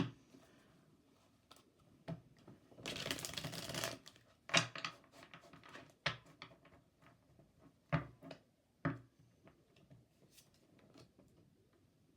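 A Lenormand card deck being shuffled makes a soft, irregular riffle, with bursts of quick papery flicks and scattered light taps. It is close and fairly quiet, and there is no talking.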